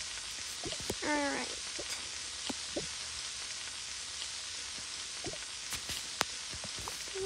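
Tomatoes cooking in a Toca game kitchen, a steady synthetic frying hiss with scattered light taps and a short chirpy game effect near the start; one brief spoken word.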